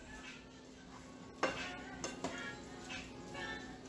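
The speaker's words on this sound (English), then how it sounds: "Stir, stir, mix, mix. Make sure your pasta is completely coated with all that" Lobster linguine is stirred in a pan to coat it in a lemony sauce, giving soft scraping and a few metallic clinks of a utensil against the pan over a low sizzle.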